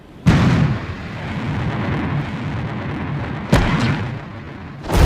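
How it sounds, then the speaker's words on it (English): Retro rockets on a NASA spacecraft fire during descent: a sharp, loud burst starts a sustained low roar, with a second abrupt blast partway through and a renewed surge at the end. "Expected retro rocket ignition on my mark."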